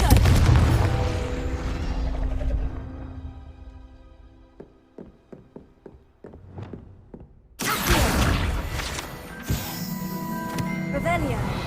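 Confringo blasting spell explosions in Hogwarts Legacy: a heavy rumbling blast fading out, a quick run of sharp small cracks, then another loud burst of fiery noise.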